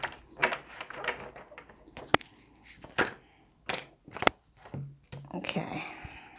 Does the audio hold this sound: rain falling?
no